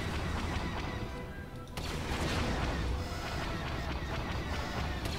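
Rapid, continuous blaster fire fills a chaotic battle in the video game Star Wars Battlefront II, with shots overlapping into a dense, loud din over background combat noise.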